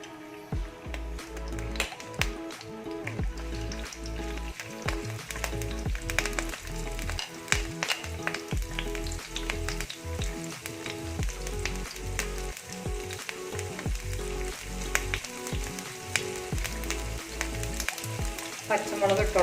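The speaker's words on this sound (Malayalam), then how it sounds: "ഇനി അതിലേക്ക് ചോപ്പ് ചെയ്ത ഇഞ്ചിയും വെളുത്തുള്ളി ഇട്ട് കൊടുക്കുക." Chopped ginger and garlic fry in hot oil in a pan, giving a continuous, close sizzle with scattered stirring taps and scrapes throughout.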